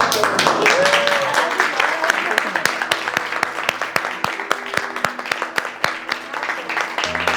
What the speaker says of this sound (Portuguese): Uma salva de palmas para Antônio.